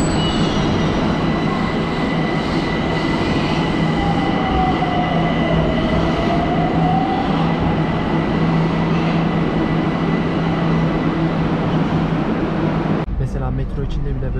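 Metro train in Iran pulling into a station, a loud steady rumble with rail squeal and a brief falling tone, continuous throughout and cut by a sudden change near the end.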